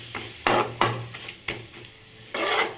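Spices and masala powders, including chicken masala and kuzhambu masala, are stirred and sautéed in a pan for an egg pasta dish. A few sharp scraping strokes stand out over a soft sizzle, close and without voices.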